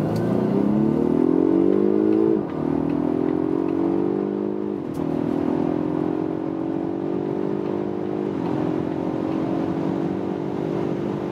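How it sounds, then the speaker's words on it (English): Volvo Polestar 1 plug-in hybrid doing a flying-start run from 30 to 200 km/h: a loud, close, steadily climbing engine drone that dips briefly at several gear changes, with no talking. "And we do a flying start from 30 kilometers an hour."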